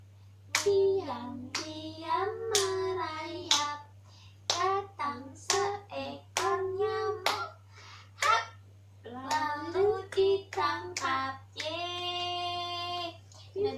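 Young children sing a nursery song at home, with rhythmic hand claps marking the beat between sung phrases and a steady low hum underneath.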